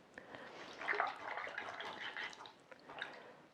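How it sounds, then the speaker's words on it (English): A paintbrush swishes and rinses in a water container, a soft, close sloshing and dripping that lasts a few seconds. "had to rinse my brush out good there"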